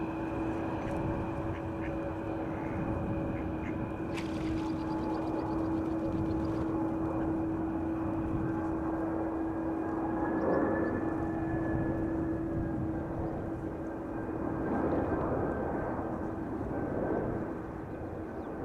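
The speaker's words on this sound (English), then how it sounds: "KLM Embraer, in the meantime, landing over here in the foreground" A KLM Embraer airliner landing at Amsterdam Schiphol, a faint steady engine drone with a rising whine, heard at a distance over outdoor background hum and brief bird quacks.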